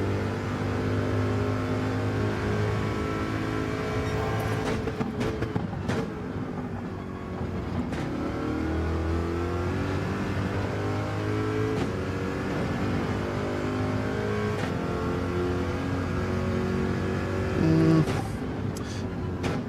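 A race car engine in Gran Turismo 7 at Interlagos, revving hard then short shifting, the loud droning tone climbing and dropping through repeated early gear changes over about twenty seconds.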